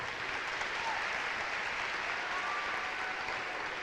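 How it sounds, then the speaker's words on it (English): An audience at an awards event applauds four nominees, a continuous even wash of clapping heard from a distance at low volume, with a few faint voices underneath. "if we could give these 4 wonderful nominees one more round of applause."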